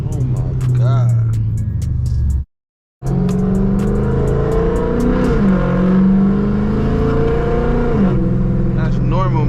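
A 5.7 Hemi with longtube headers, straight pipe and an E85 tune revs loud and close, its deep droning exhaust rising and falling with a short cut to silence midway, while people talk over it.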